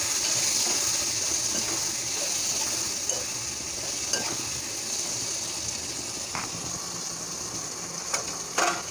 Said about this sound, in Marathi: मिक्स करून घेऊया